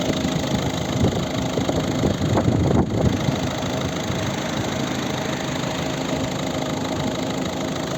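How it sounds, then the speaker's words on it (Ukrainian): A 2010 Volvo V50 facelift with a 1.6 diesel engine and manual gearbox idles. It gives a steady, even, muffled drone at close range with no voices. "Дуже тихо, м'яко, так глухо працює цей двигун."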